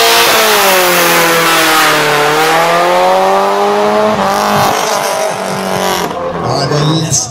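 An Audi Quattro rally car, number 15, at a classic car event, its engine revving loud and close with a sustained rising and falling tone as it passes, under an announcer's voice.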